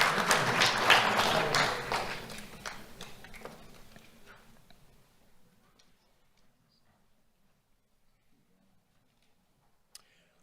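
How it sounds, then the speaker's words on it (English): Applause from an audience at a sheriff's office youth awards ceremony, dense clapping loud for the first two seconds, then thinning and fading out by about five seconds into near silence, with one sharp tap near the end. "Let's have a round of applause for Ariana Burgess"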